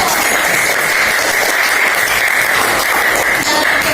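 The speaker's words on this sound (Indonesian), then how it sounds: "tepuk tangan dulu untuk kelompok 1" A classroom of students applauds group 1 after their presentation, a loud, steady wash of clapping that holds throughout.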